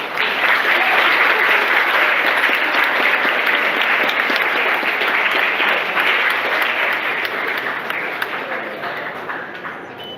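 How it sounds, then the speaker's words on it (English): A dense, sustained burst of audience clapping at a student lecture held in a garden, loud and even throughout before slowly thinning toward the end, with some voices mixed in. "That deserves a clap"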